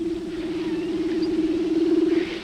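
Whale vocalization heard as a steady, sustained tonal moan with a slight wavering pulse, continuous and fairly loud for the whole stretch, with no voices over it.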